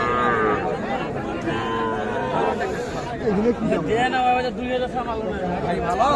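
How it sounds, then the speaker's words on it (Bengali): Calf market at Ambari cattle haat in Parbatipur, Dinajpur, with small calves being bought and sold; occasional moos rise over a dense crowd babble of chatter throughout. "ছোট ছোট বাছুর যেখানে ক্রয় বিক্রয় চলছে, আমরা কিন্তু সে জায়গায় রয়েছি।"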